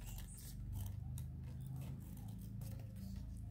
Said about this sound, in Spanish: Una vez que la cortamos, vamos de nuevo a hacer el corte por la mitad.